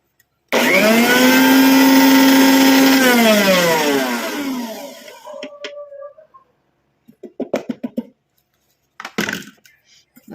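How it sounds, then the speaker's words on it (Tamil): A mixer grinder jar grinds roasted mustard seeds, starting with a loud, close motor whine. The whine holds steady for a few seconds and then winds down, followed by scattered clinks and rattles of the jar being handled. "இப்போ நம்ம இதை வந்து மிக்சி ஜாரில் எல்லாத்தையுமே கொட்டிட்டு நல்லா அரைச்சி எடுத்துக்கலாம்"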